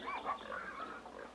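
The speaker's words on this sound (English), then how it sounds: "The swineherds let his pigs get into Widow Alice's garden." Pigs grunting and oinking in a village garden, a steady run of snorts and grunts close by with no voices over them.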